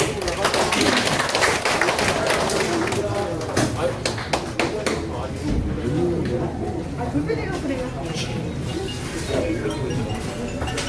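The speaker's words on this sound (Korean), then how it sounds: "조합장님 박수로 모시겠습니다" Attendees at an agricultural cooperative's local-food farmer training session clap to welcome the cooperative head, a quick patter of hands in the first seconds that fades into murmuring and someone speaking.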